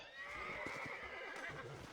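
A horse in the Red Dead Redemption game gives a loud, wavering neigh that lasts almost two seconds, with light hoof clatter underneath.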